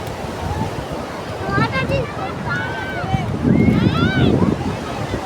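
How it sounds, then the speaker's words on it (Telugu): Surf rumbles and washes steadily at Bapatla beach with strong wind buffeting the microphone, while voices talk over the roar of the waves. "అలలు అయితే మరీ ఘోరంగా మస్తు వస్తున్నాయి"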